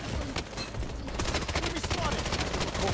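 Gunfire in the mobile shooter Blood Strike: after a muffled start, rapid, repeated shots crackle in a dense, uneven volley, moderately loud against a busy game background.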